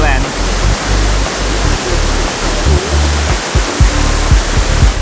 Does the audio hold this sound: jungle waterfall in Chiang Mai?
yes